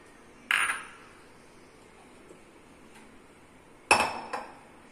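Chopped chikoo pieces drop into a blender jar with two sharp clinking thuds, one early and one later with a small follow-up knock. The sounds are close and clear against a quiet room.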